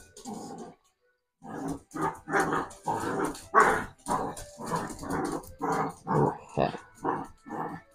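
A dog chasing its tail whimpers, yips and growls in a rapid string of loud, close vocal bursts after a short pause, with a brief spoken word.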